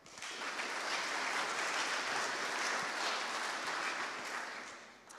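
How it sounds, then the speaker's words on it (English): A room of attendees at the BruCON security conference applauds presenters, a broad, even wash of clapping swelling in and holding steady before tapering off near the end. "So please give them a round of applause."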